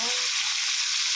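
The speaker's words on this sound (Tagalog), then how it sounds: "pagprito pa tayo ng isda" Fish sizzles in hot cooking oil in a pan, a close, dense, steady hiss filling the short moment.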